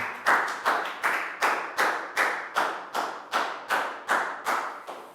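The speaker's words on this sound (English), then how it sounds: "Big round of applause for Down." A Year 3 class claps together in tight unison, about eleven sharp, evenly spaced claps in a steady rhythm, close and fairly loud with no talking.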